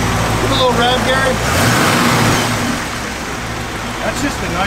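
A 1960 Chevrolet Impala engine rumbles loudly nearby and its pitch shifts as it is revved, while people talk over it.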